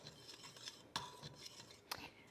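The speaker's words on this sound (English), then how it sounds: "Now I'm just gonna whisk these up just for a second" Dry ingredients such as flour, baking powder and salt stirred in a bowl with a Danish dough whisk, faint close scraping with two sharper clinks against the bowl.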